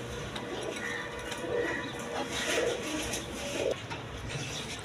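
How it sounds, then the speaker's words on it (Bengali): A pair of orange chila pigeons coo softly at a bird farm, the low murmuring calls blending into steady background noise and a general hubbub with no clear voices. "দশমী এখানে এক পেয়ার অরেঞ্জ চিলা কবুতর আছে।"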